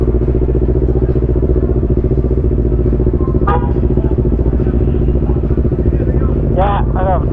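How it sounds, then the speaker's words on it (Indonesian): Honda CBR motorcycles idle and rumble nearby at a crowded CBR club anniversary gathering, a steady engine drone with a couple of brief rising revs, under people talking loudly throughout. "Nih banyak motor-motor CBR."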